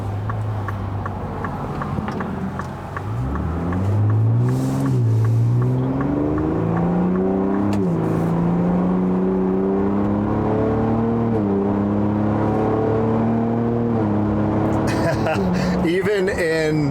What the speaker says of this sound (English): just a little acceleration, man, I feel like I'm back in my Gen 3. It is such a smooth exhaust note